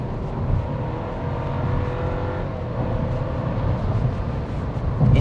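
Inside a Skoda Kushaq facelift with a 1.0L engine and 8-speed automatic, the engine drones steadily under hard acceleration for a highway overtake, a muffled continuous rumble with road noise that swells slightly toward the end.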